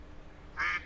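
A duck quacks once at a duck pond in a park-themed game, a short, fairly loud call over a faint background hum.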